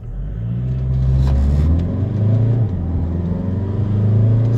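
A 2006 TDI diesel car with a newly installed power chip drives along with a loud, steady low engine drone and road rumble, its pitch rising and falling slightly as it pulls, with no talk.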